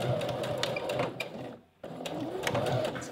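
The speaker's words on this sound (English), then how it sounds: "just sew a row of straight stitches across the width of the elastic" A sewing machine stitches a straight row across the width of an elastic bra strap, a fast steady mechanical whir that pauses briefly in the middle and then starts again, close and alone with no voices.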